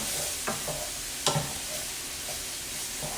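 Drained broccoli being stirred in a sizzling pan, with a few distinct scraping strokes over a steady soft frying hiss, close and fairly quiet.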